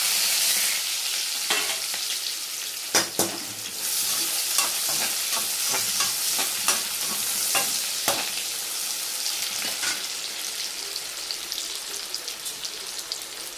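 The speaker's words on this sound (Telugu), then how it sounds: "ఇవన్నీ రోస్ట్ చేసుకుందాం" Cumin, onions and whole spices such as cinnamon, cloves and cardamom sizzle steadily in a hot oiled pan for a paneer curry, with repeated sharp scrapes and taps of a stirring spoon close up and no voices.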